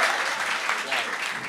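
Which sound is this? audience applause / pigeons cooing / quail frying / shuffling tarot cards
audience applause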